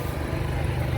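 A fairly new John Deere 6R250 tractor at a ploughing match in the Weald of Kent gives a steady, continuous engine drone, running evenly throughout.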